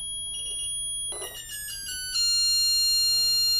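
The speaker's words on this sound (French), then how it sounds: "on utilise ces capteurs piezo dans des téléphones pour en faire des sonneries" A piezo transducer salvaged from an old phone sounds a shrill electronic tone, first a thin steady beep, then stepped pulses that settle into a louder, rich sustained ringing.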